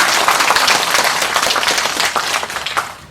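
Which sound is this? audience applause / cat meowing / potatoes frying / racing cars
audience applause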